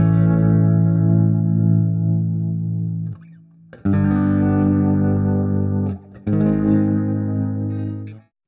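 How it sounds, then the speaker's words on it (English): A MIDI guitar played through a free Sennheiser Ambeo Orbit surround panning plugin gives sustained, effect-laden chords with distortion and chorus-like shimmer, loud and close, ringing in three phrases separated by short breaks. "This is the Ambio Orbit plugin, which is a free surround sound mixing plugin."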